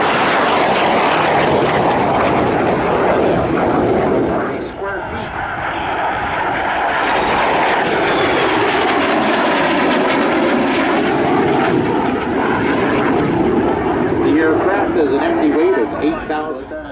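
At an airshow, an aircraft makes a loud high-speed pass whose engine roar swells, dips briefly and then builds again as it sweeps by, while an announcer talks over it.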